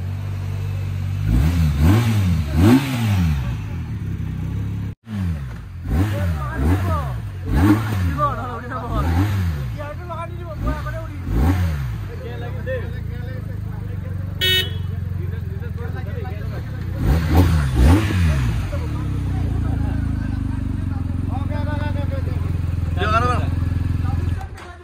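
A motorcycle engine revs repeatedly in rising and falling bursts, loud and close, with a person talking intermittently over the engine noise.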